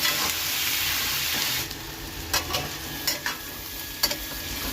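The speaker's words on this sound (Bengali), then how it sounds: "যাতে পেঁয়াজটা খুব তাড়াতাড়ি লাল হয়ে যায় একটু নাড়াচাড়া করে নিলাম" Onions frying in a pan, a loud bright sizzle at first that drops lower as they are stirred, with several short scraping strokes of a spatula against the pan.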